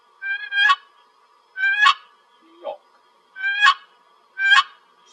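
Four raspy two-note yelps from a turkey box call, spaced about a second apart, with one short lower squawk between them, loud and alone.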